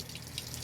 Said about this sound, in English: when you first turn it on to cold water after either warm or hot, it will spray like this